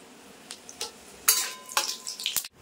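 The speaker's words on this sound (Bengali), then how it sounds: "তেল গরম হয়ে গেছে, তেলের ভিতর ফোড়ন করে নেব। দিয়ে দেবো হচ্ছে গোটা জিরে, শুকনো লঙ্কা, তেজপাতা।" Whole cumin, dried red chillies and bay leaf hitting hot oil for a Bengali jackfruit and chicken curry tempering, giving several sharp crackling bursts and sizzles, close and fairly loud, with brief quiet gaps between spurts.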